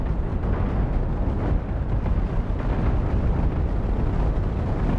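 Ship cannons firing in the space game Cosmoteer, a dense continuous roar of overlapping blasts and explosions lasting throughout, loud and without voices.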